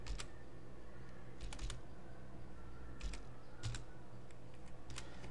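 Quiet keystrokes on a computer keyboard in small bursts, with brief pauses between groups of clicks over a low steady room hum.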